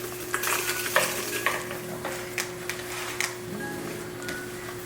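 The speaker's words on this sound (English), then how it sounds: "And mix that with my hands, just so it kind of coats" Seasoned ground turkey squished and stirred by hand in a bowl, a steady wet churning with soft clicks and brief taps over a constant low hum, close and moderately loud.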